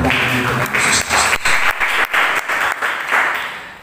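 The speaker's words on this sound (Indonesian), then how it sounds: "Beri tepuk tangan bagi Tuhan Yesus." A church congregation claps during a sermon, a broad burst of hand claps with swelling and dipping waves, some faint voices mixed in.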